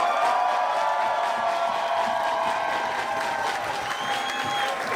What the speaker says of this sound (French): Est-ce qu'on peut pas applaudir un peu plus fort que ça?